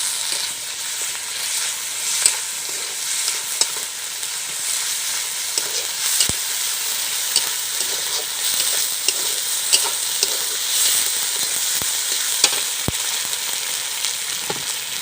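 Chili, cumin, ginger and garlic paste frying for a village-style desi chicken curry, a steady close sizzle with occasional scraping and stirring clicks from a utensil against the pan, no voices.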